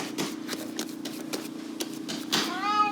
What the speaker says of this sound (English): Excuse our cat. She always cries.